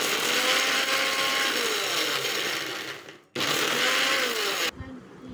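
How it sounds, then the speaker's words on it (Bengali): A kitchen mixer grinder whirs loudly as it grinds spices for mango pickle, running steadily, stopping briefly, then starting again before cutting off abruptly into quieter rattling. "এটাতে মিক্সিতে গুঁড়ো করে নেব ভালো করে"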